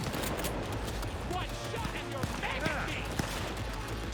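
Rapid turret gunfire from the video game Cyberpunk 2077 crackles in dense bursts, with sharp shots popping out over a busy wash of game noise and effects, ongoing throughout and fairly loud.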